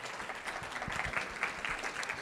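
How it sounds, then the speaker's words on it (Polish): A crowd at a tourism event applauds as the editor-in-chief of a travel magazine is invited on stage, a dense, steady burst of clapping throughout. "Wielkie brawa."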